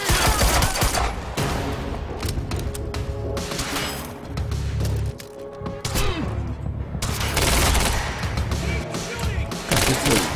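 Dense bursts of video-game gunfire from Quantum Break, rapid shots and loud cracks layered with booms and impacts, continuing almost without pause under frequent voices talking over the action.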